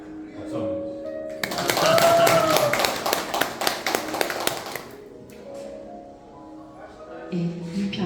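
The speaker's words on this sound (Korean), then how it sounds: "박수 한번." An audience at a book launch event claps together in a burst of applause lasting a few seconds, fairly close and full, fading back to a quiet room with murmured voices.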